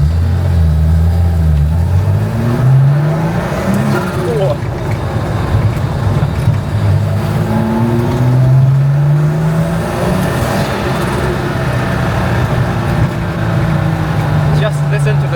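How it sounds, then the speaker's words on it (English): A rare Porsche 930 Turbo TBK engine drones low and close on a slow, speed-bumped road, its pitch swelling and easing with throttle while the turbo adds a rushing edge, continuous throughout. "the turbo sound, yeah"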